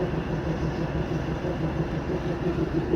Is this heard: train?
yes